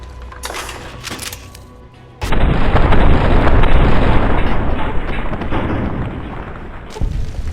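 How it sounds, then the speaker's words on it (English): The Red Glare, a fully automatic rapid-fire missile launcher in Fallout: New Vegas, opens with a few quick shots, then a loud sustained roar of overlapping explosions rumbles on, ending in another blast. "It's actually a fully automatic rapid-fire missile launcher"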